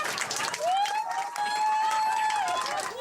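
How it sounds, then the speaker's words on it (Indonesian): An audience at a ceremony breaks into applause, a quick clatter of many hands clapping in the room, with a sustained whistle-like tone or voice rising over the noise. "Tepuk tangan hadirin pecah ketika Azril Akbar Hermansyah memilih gitar di antara benda-benda mainan lain yang disediakan di sekitarnya"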